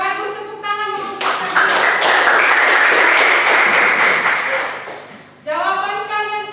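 A classroom of students claps together in a loud burst lasting a few seconds; a teacher's voice is heard before and after the clapping.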